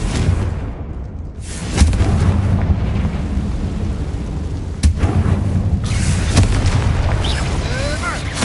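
Deep booming fire explosions from the Confringo spell in Hogwarts Legacy on PS5, heavy rumbling blasts that fill the whole clip with a loud sustained roar and a few sharper impacts.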